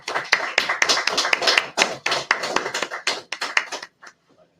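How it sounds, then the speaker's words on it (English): A small group claps, sharp uneven slaps that come close and fairly loud, thinning out and stopping near the end. "Clap it up."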